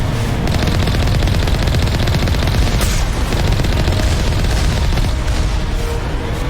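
Dense, continuous gunfire and booming blasts in Mass Effect as turrets are destroyed, a loud unbroken barrage filling the whole stretch.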